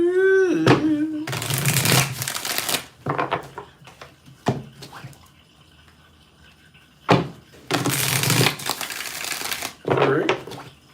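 Tarot cards are riffle-shuffled in two loud, crisp bursts with quieter handling and taps between them, and a voice speaks briefly at the start.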